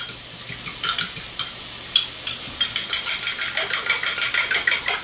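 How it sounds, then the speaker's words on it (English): Eggs mixed with a little sriracha stirred in a bowl or wok, heard as a steady run of quick, close clinking and scraping strokes that grow denser and more rhythmic toward the end, with no talking. "And we just need to stir these up."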